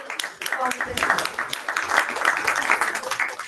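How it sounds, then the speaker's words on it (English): A conference audience at an international diversity and inclusion event applauds its founder president, a dense, steady wash of many hands clapping at moderate volume, with a voice faintly mixed in. "A huge round of applause for Honorable Founder President."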